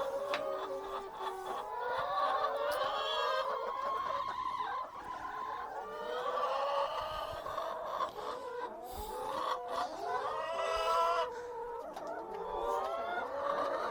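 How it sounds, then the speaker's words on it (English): A flock of farm chickens clucks and calls steadily and fairly close, overlapping voices filling the whole stretch without pause. "Happy chickens."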